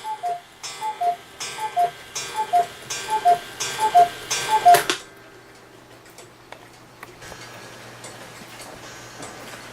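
Ticking of a Hebert Herr 8-day clock, a crisp, regular tick-tock close by that runs steadily for about five seconds before dropping away to faint background noise.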